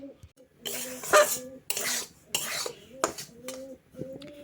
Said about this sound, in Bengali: এদিকে সুজিটা ভাজতে বসিয়ে দিয়েছি